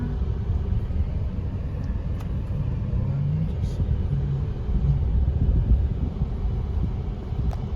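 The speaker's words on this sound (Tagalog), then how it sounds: "Traffic pa rin talaga eh." Cars rumble in slow road traffic near Robinson Palapala in Silang, a steady low engine drone heard from inside a vehicle with some wind noise, continuous throughout.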